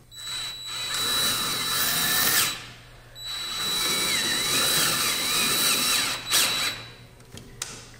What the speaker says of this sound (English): The drill isn't properly tightening down on the drill bit, and it's not wanting to go.